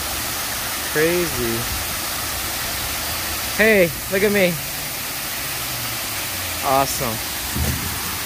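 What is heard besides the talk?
waterfall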